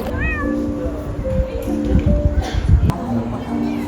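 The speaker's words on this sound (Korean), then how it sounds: "계속 냥냥거리네." A large cat meows a few times near the start, its cries rising and falling over a busy background of voices and clattering dishes.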